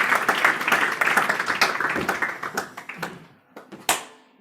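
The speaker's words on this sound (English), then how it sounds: "Big applause for Anton, please." Audience applause for a speaker at a FameLab science communication event, a burst of many hands clapping that thins into scattered, separate claps and then a few final sharp ones.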